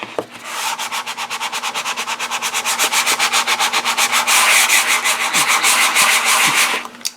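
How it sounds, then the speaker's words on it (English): Steady back-and-forth sanding of an art journal cover, a fast regular rhythm of scratchy strokes, close and loud, with no talk. "you really don't have to sand these a lot"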